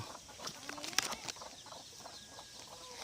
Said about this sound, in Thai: ไก่ไก่บ้านเลี้ยงเองเลี้ยงปล่อย เยอะเหมือนกันไก่บ้าน